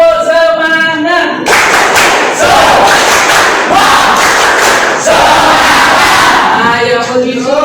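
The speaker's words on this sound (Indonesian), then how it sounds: "Ayo, tepuk semangat." A school class shouts a spirited clapping chant together, loud rhythmic group claps and thumps with voices calling out in unison, bracketed by a teacher's speech before and after.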